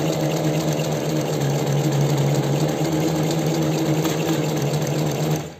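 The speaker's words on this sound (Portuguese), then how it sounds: "É uma máquina transporte triplo" A triple-feed heavy-duty flat-bed MC 243 sewing machine stitches felt with leather on top, giving a steady, close mechanical hum with a low drone that runs evenly for about five seconds and then stops abruptly.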